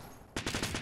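A video game gun opens fire after a short quiet moment, giving a rapid run of about five loud, close shots in under half a second.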